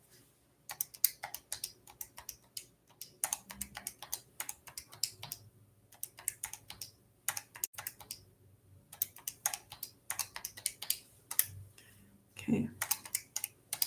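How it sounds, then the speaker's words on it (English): Calculator buttons are tapped in quick bursts of sharp, close clicks with short pauses between runs of entries, and a voice speaks briefly. "Got to type all this in."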